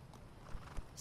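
Horse hooves clip-clop in the video game The Last of Us Part II, two soft, quiet hoof falls in quick succession over a faint background.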